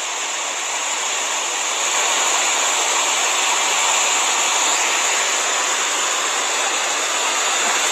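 Waterfall roaring beside a river island where bears gather to fish, a steady broadband rush that stays loud and unbroken throughout with no voices.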